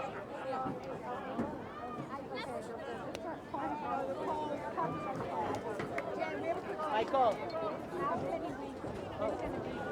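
A happy crowd cheers and chatters at Memorial Field after a boys high school lacrosse playoff win, with a steady, dense hubbub of many voices throughout.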